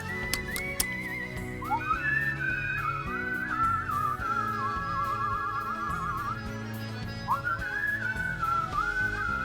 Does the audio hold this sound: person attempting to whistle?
yes